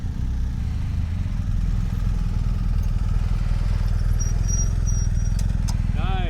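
A motorcycle engine runs steadily at low revs throughout a rider training session, a continuous close rumble with slight throttle changes, while an instructor's voice talks over it.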